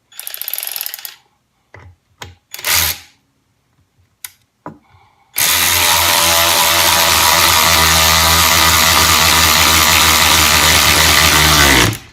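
A 16V cordless long neck ratchet runs a bolt in, first with a few short clicks and bursts, then a loud, steady mechanical whirr that holds for several seconds.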